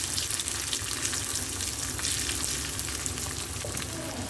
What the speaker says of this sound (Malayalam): അണ്ടിപ്പരിപ്പ് ഏകദേശം റെഡിയായി വന്നപ്പോൾ കിസ്മിസ് ഇട്ട് കൊടുത്തു.